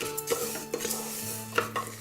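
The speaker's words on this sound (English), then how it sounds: "So I will again mix it properly." Turmeric-yellowed sweet rice for basanti pulao is stirred in a pressure cooker, with a spoon scraping and clinking against the metal pot several times over a faint sizzle, close by with no talk.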